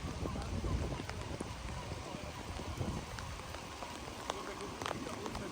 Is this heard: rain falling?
yes